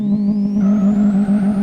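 A Saveiro 1.6 single-turbo engine in the Live for Speed racing game pulls hard in first gear, a loud steady drone that climbs smoothly in pitch, with a rising turbo whine above it and no voices.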